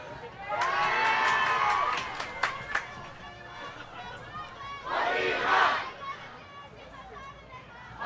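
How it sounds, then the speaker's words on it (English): A crowd at a La Quinta varsity football game roars in two loud surges of cheering and shouting, with a commentator talking over the noise between them. "La Quinta's crowd into it now."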